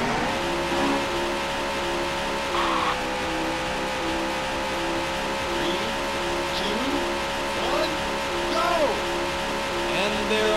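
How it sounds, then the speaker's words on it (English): Race cars at the start line in the video game Daytona USA on Xbox, engines droning and revving steadily together at high volume, with tonal pitch sweeps and brief squeals rising over the continuous dense roar. "Gentlemen, start your engines."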